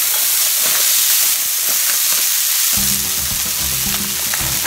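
Frozen fried rice cooking in a multilayer stainless steel frying pan with no oil over medium-low heat: a loud, steady close sizzle and hiss, with a lower rumbling, clattering layer joining partway through.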